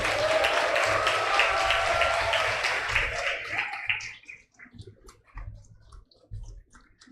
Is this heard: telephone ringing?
no